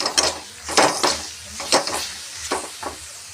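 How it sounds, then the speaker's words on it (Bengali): Ground spice masala with coriander powder being stirred and fried in a pan for an egg curry, with repeated scraping strokes and light sizzling in an uneven rhythm, close and moderately loud, no talking. "ভালো করে মিশিয়ে নিই মশলাটা।"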